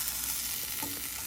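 A shrimp taco with melted cheese sizzles in a hot pan, a close, steady frying hiss with a soft scrape as it is flipped, no talking.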